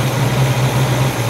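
Engine of a 1969 Camaro Yenko recreation idling after warm-up, a steady low rumble with a slight rhythmic pulse, close and even throughout, no talking.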